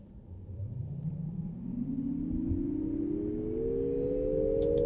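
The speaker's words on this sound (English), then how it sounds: "Going to do a little 0 to 60 or 100 kilometer an hour test" A 2024 Nissan Ariya electric car accelerating hard from a standstill toward 60 mph, its motor whine rising steadily in pitch over a constant low rumble of road and wind noise, with no talking.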